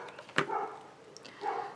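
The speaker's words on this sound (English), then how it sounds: "Sorry for the dog barking." A dog barks a few times at a distance, short sharp yelps spaced out in a quiet room.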